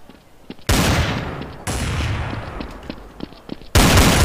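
Loud, close bursts of weapon fire in the online shooter Counter-Strike: Source, a few long noisy blasts with brief gaps between them and faint clicks in the quieter moments.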